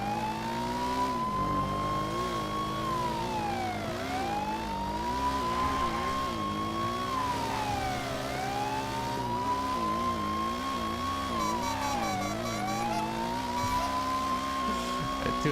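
A very slow clown van in a roleplay driving game, its engine droning steadily with repeated rising and falling gear-shift sweeps and faint tire noise, loud and continuous throughout.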